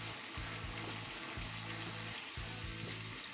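Food sizzles softly in a pan over low heat, a gentle and quiet frying hiss, with a faint low rhythmic hum running underneath.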